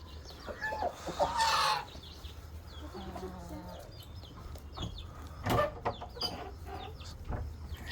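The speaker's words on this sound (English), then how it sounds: "Oh, here comes the chickens." Domestic chickens clucking outdoors in rural Coorg, India, with a louder burst of fowl calls early on and scattered clucks afterward over a bed of birdsong and ambient noise.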